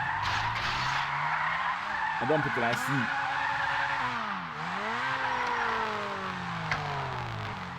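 Car tires skid and squeal in GTA Online, a continuous screech with sweeping pitch bends running through most of the stretch over a steady engine drone, while a voice speaks briefly.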